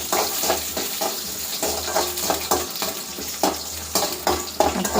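Peanuts sautéed in a pan for lemon rice with green chillies, a steady sizzle with rhythmic spatula scrapes repeating about every half second, close by and with no voices.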